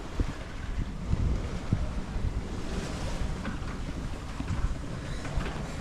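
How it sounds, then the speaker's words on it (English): Steady wind and breaking waves surround a 1992 29-foot sailboat at sea off Martinique with its engine off, a continuous broadband rush with gusting wind buffeting the microphone and no voices. "The wind's coming in better, unobstructed by the island."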